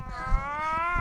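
A person imitates a cat in heat, giving one drawn-out, wavering, nasal meow, loud and close, with no other voices.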